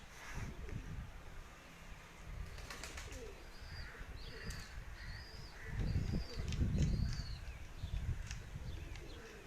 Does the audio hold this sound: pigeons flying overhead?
yes